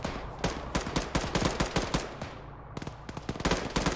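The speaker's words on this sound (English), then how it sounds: "Friendlies east. Taking fire from the east." Rapid bursts and single cracks of rifle fire echo during a military field training exercise, coming in irregular volleys of sharp reports, some close and loud, others more distant, with no talking over them.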